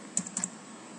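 A few quick computer keyboard keystrokes entering text into hostel management software, two short clusters of clicks close up, faint and with no voices.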